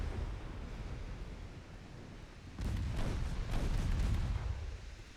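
Naval gunfire and torpedo impacts in a Great War–era battle in Ultimate Admiral Dreadnoughts: a low, rumbling background swells into a cluster of muffled, distant booms in the second half.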